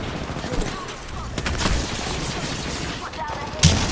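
Gunfire crackles in an Apex Legends match, a flurry of shots and impacts over a few seconds with a sharp loud report near the end, mixed with game noise.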